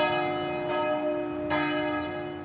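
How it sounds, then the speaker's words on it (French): Church bells in the city of Fribourg ring out with two clear, resonant strikes whose long metallic hum lingers between them, steady and fairly close with no voices. "il écoute aussi les cloches de la ville de Fribourg"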